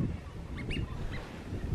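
Waterfowl calling on the water during a winter walk in Cornwall, a few short honking cries rising over steady low wind or water noise, fairly faint and distant.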